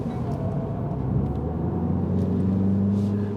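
A car engine drones with a steady low rumble on a race track, holding a sustained tone that swells slightly in pitch toward the end, loud and close.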